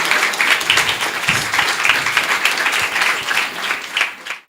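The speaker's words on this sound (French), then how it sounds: "Nous allons recevoir avec des applaudissements bien mérités Madame Elawama Mara." Steady applause from a crowd, dense and even throughout, fading out at the very end.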